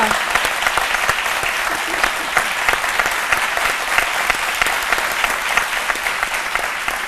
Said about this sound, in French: On va donc applaudir